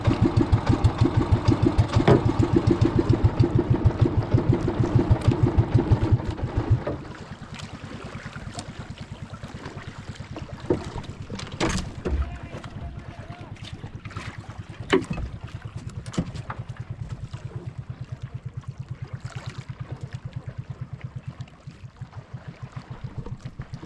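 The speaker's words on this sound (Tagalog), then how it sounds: "Dumating sa bangka." A motorboat engine drones steadily, loud at first then dropping to a lower idle, with wind and occasional knocks and splashes.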